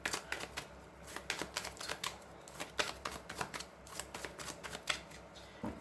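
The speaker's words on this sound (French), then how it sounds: "Alors, on va remélanger un petit peu." Tarot cards being reshuffled by hand up close, a quick run of crisp riffling and flicking bursts in an uneven rhythm, with no talking.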